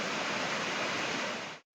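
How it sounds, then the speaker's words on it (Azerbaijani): The Dustaqxana waterfall in Astara roars as a dense, steady rush of falling water close by, then cuts off abruptly. "Çok güzel şəlalədir."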